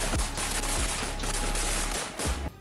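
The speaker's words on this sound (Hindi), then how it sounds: "ठिकाने के करीब पहुंचते ही यूक्रेन के जवानों ने ताबड़तोड़ फायरिंग शुरू कर दी" Heavy, rapid gunfire from Ukrainian soldiers advancing through fields on enemy positions in Kharkiv region, a dense continuous barrage of close, loud shots with sharp booming bursts, ending abruptly, no voices.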